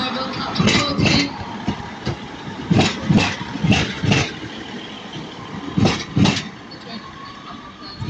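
A diesel train idles at Manchester Piccadilly station, a steady loud engine drone broken by repeated sharp bursts, with station ambience around it.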